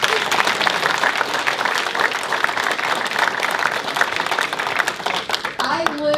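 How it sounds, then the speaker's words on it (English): Guests at a Montgomery County veterans dinner give a steady, dense round of applause that fills the room for several seconds, with a voice briefly emerging near the end. "I want to give us all a round of applause"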